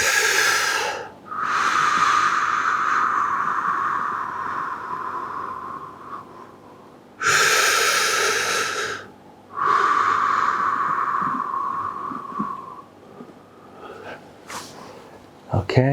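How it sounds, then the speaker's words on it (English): A person taking slow, deep breaths during a pelvic massage, with long airy inhales and exhales heard close up in a few broad waves, separated by short pauses. "Full deep breath."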